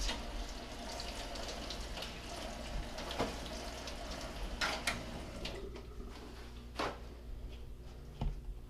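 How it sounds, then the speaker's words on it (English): Pierced-tattoo tools rinsed by hand under a running tap after an ultrasonic cleaning cycle: a steady broadband wash of water with occasional metallic clinks and knocks against the sink, close and moderately loud, with no talking. "Tools are to be taken out, thoroughly rinsed,"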